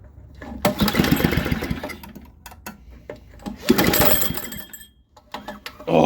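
A Craftsman snowblower engine is pulled with its recoil starter in two long rasping pulls, each a close, rapid mechanical clatter, followed by shorter jerky attempts and a burst of noise at the end.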